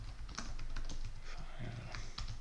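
Keystrokes clatter on a computer keyboard in an irregular run of quick taps at close range, with a low hum running underneath.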